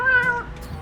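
A pet parrot imitates a cat, producing a single drawn-out meow-like "wow" call that is close, clear and tonal, heard alone.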